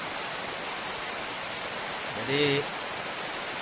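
Heavy rain pours steadily onto a rural fishing spot near a hut, a dense even hiss filling the whole clip, with a brief word from a man near the end.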